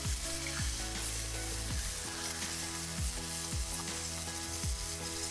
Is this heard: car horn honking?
no